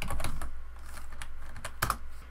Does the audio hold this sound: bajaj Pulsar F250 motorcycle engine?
no